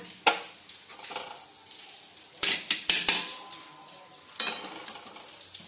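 Upma being scooped from a pan onto a plate: a handful of sharp metal spoon scrapes and clinks against the pan in irregular bursts, close and fairly loud, with quiet sizzle between and no talking.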